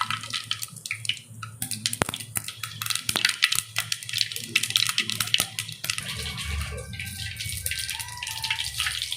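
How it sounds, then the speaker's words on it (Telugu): Mustard seeds sputtering and popping in hot oil in a clay pot on a stove, with dense crackling bursts and sharp snaps close by, alongside a low background hum. "ఆవాలు వేసుకుంటున్నాను."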